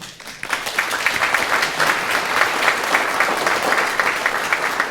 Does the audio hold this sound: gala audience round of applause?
yes